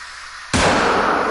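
A single sharp shot from a 7mm bolt-action rifle in a game, one loud sudden blast that rings out without decay through the rest of the moment.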